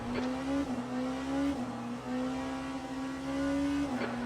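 A hypercar in a racing video game laps Spa-Francorchamps, its engine holding a high, steady whine that dips briefly at gear shifts and then climbs again, close and continuous.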